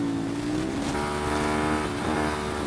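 Ducati Monster 696 motorcycle, throttle restricted, fitted with twin Leo Vince exhausts, running with a steady, throaty engine drone and a slight rise in pitch, heard close and continuous.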